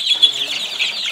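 Chickens clucking in a poultry yard, with very young chicks among the flock: a steady, fairly close run of high chirps and clucks that carries through the whole moment without pause.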